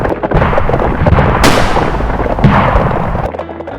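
Gunshot sound effects for a Spanish-language radio drama set in a western-style gunfight: dense, loud bursts of cracking shots and blasts, with a sharp report in the middle and rumbling echoes trailing off.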